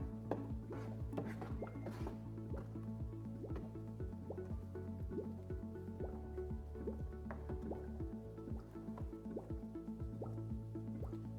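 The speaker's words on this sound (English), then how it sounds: "we're gonna go ahead and close the handle and let the machine fill" An Electro Freeze CS-700 soft-serve machine fills with mix during priming, giving a busy run of close drips, squishy splashes and liquid gurgles over a low steady machine hum.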